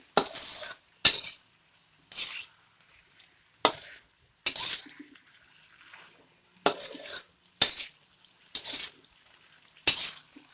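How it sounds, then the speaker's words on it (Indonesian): Sliced egg whites being stirred with seasoning in a pan for a stir-fry with belimbing wuluh: about a dozen brisk, scraping spatula strokes in uneven bursts, close by, with faint sizzling between them. "Kita aduk ya sahabat, biar bumbunya merata dan masuk ke dalam putih telur."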